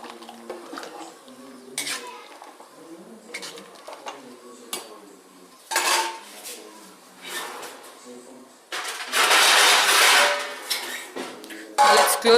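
Faint clinks and scrapes of a utensil stirring turmeric-spiced water in a pot over a village cooking fire, with a louder rush of sizzling or boiling noise toward the end.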